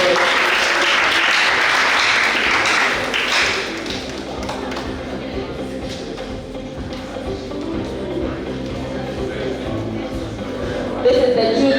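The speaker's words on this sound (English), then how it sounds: "Let's give each other a very big round of applause." Big round of applause from the audience and contestants at a junior science and maths quiz contest in Ghana's Western Region, loud dense clapping that fades after about four seconds into quieter scattered taps, thuds and shuffling with murmuring voices.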